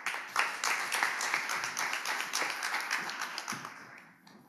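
An audience at a Seoul stage event bursts into dense, continuous applause to welcome a guest speaker, many hands clapping together at moderate loudness before the sound tapers off at the end.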